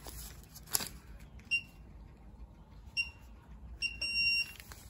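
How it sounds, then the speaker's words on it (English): Defiant touchpad deadbolt lock emitting short electronic beeps, then a longer beep near the end, close and clear over a quiet background. "Hear a long beep"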